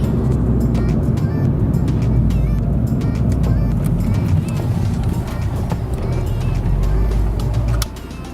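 Steady interior road noise from a moving car, a loud low rumble with rattling, clattering texture throughout that eases slightly near the end, with voices talking over it.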